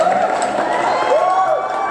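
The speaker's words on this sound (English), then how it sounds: "I meant to play applause" A crowd cheers and whoops in a short burst of a played sound effect, with shouts rising and falling over a dense bed of noise.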